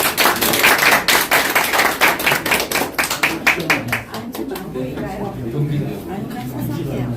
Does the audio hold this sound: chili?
no